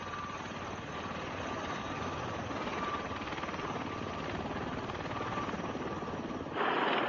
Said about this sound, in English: The V-22 Osprey team has indeed created a new kind of flying machine.